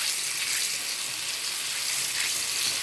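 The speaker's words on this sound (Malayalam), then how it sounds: "അതിനകത്തോട്ട് നമുക്ക് ഉലുവ ഇട്ട് പൊട്ടിക്കണം." Fenugreek seeds crackle and sputter in hot coconut oil as a continuous bright sizzle, heard close up and steady throughout with no voices.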